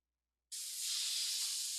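An airbrush bursts into a steady, close, airy hiss after a moment of silence and holds evenly to the end.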